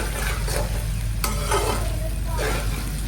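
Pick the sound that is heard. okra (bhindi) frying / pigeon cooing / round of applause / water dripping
okra (bhindi) frying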